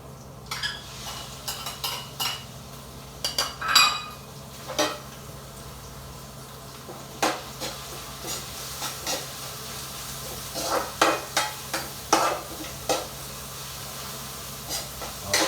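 Ground meat (giniling) sizzles and hisses in a frying pan as a utensil stirs it. A spatula scrapes and clinks against the metal in irregular bursts over a steady, quiet frying hiss.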